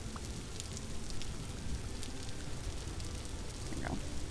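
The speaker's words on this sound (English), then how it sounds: "Oh my gosh, the rain is so incredibly loud." Steady rain falls in the survival video game Vintage Story, a dense, even hiss of drops with scattered brighter patters, close and loud throughout with no voices.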